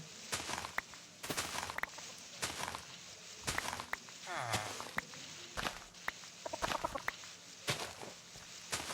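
A chicken clucks in Minecraft among repeated footsteps and thumping noises, the clucks short and pitched, mixed into a busy stream of game sound effects.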